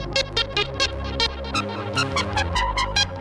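A song spins on a vinyl record as kitschy electronic pop, a full, steady mix with regular bright percussive accents running throughout.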